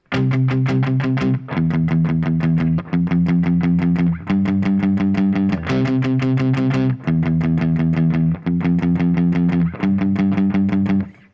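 Distorted electric guitar chugs through the bridge of a song in repeated power-chord bursts, each chord held briefly before short gaps, loud and alone.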